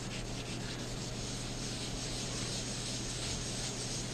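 Continuous abrasive scrubbing of rust from cast iron tools, a dense, loud and unbroken rasping rub that holds steady throughout with no pauses or talk.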